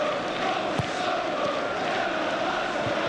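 A huge football stadium crowd at Sunderland v Liverpool roars continuously, a dense steady wall of cheering and chanting with a few sharp shouts poking through.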